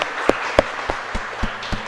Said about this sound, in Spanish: un fuerte aplauso para el coro aquí que ya está presente